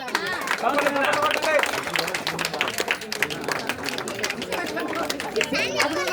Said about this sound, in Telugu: ఒక నిమిషం అందరూ చప్పట్లు కొట్టాలా?